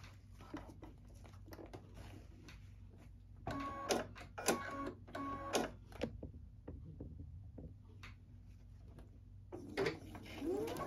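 A sewing machine stitching a seam at a 3/8 inch allowance, quiet bursts of rapid mechanical whirring and clatter that start and stop several times, heard close up in an otherwise hushed sewing room.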